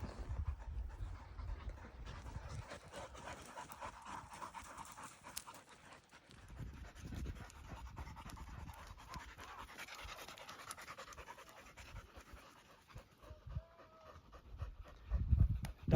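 Tired working dogs pant heavily after herding bulls in hot desert brush, a quick breathy rhythm close by that rises and falls over faint background noise, with no talking.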